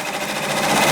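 An embroidery machine stitching a St. Patrick's Day design runs with a rapid, even mechanical chatter, close and steady for a brief moment.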